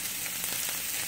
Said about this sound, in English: Look how they're grilling.